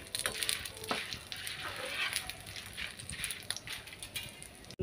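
Dried red chillies roasting in a pan for karam podi spice powder, a steady close sizzle and crackle with occasional scraping stirs, continuous throughout.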